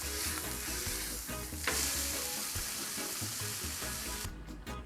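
Pineapple chunks sear on a Blackstone flat-top griddle with a steady, close, loud sizzle, a brief louder hiss near the middle, and a few scraping knocks of a utensil toward the end; nobody speaks.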